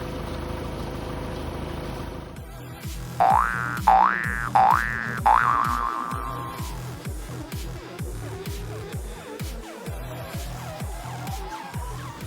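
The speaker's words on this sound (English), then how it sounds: "What you just saw was a how not to pull an engine out of a truck because we didn't have the chain secured" A Cummins 5.9 diesel engine drops from a truck during a pull when the hoist chain isn't secured: a sharp bang cuts in, followed by a few springy, ringing boings that fade under a steady rumble.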